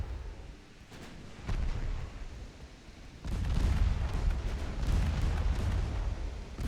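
Battleship guns fire in the naval game Ultimate Admiral Dreadnoughts, German ships Scharnhorst and Koenig against British Victorious, with deep rumbling booms, a few distinct shots early, then a sustained heavy roll of gunfire.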